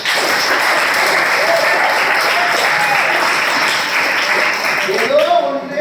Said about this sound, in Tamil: அரியர்ஸ்ல கைத்தட்டு.